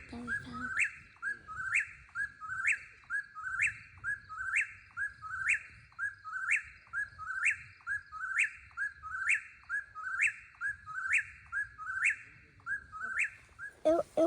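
Wild bird in Zaleski State Forest calling repeatedly, a rhythmic series of sharp rising whistled notes evenly spaced about once per second, fairly close and clear over quiet background.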